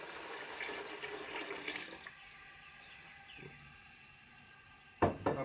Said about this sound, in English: now let's add a bit of water